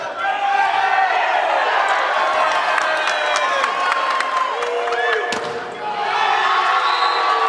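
Spectators in a volleyball gymnasium applauding the players, a steady wash of clapping and crowd noise with ball bounces and squeaks under a commentator's voice.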